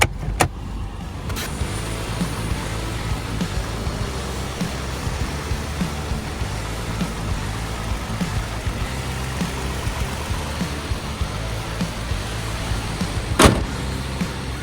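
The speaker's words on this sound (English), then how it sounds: "Just listen to the engine." A fourth-generation Toyota 4Runner engine idles steadily for a long stretch, a constant low rumble with a couple of faint clicks; no one speaks.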